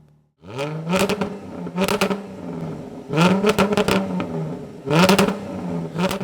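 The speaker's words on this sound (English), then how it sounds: "we might just give it a couple of light revs" A Jaguar F-Type with a sport exhaust is blipped through four short, loud revs from idle, each rising in a roar and falling back to a steady, close burble between bursts.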